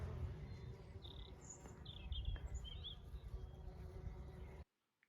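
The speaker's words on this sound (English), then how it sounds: "just listen to the bees enjoying an early season feast on it" Low, steady insect buzzing fills the scene close by, with faint bird chirps above it, until the sound cuts off abruptly near the end.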